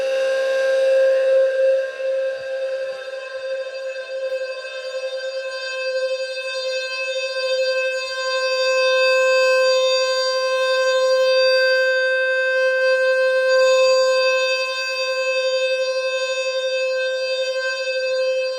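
A loud, steady electronic tone with rich harmonics from a Wheelock low-frequency fire alarm sounder during a test, sounding continuously and alone, holding nearly level throughout with slight swells in volume.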